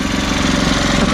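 A small engine running on bacon grease as its oil idles close by, giving a loud, steady, even chugging rumble throughout.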